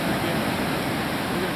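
Ocean waves break and wash along the shore in a steady, broad rushing roar, loud and close, with no distinct pauses on a roosterfishing trip in Mexico.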